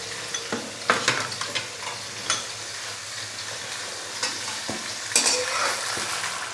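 Chicken pieces frying and being stirred in hot ghee for chicken karahi with whole green chilies, a steady broadband sizzle with sharper bursts and scrapes at irregular moments, close and moderately loud, no voices.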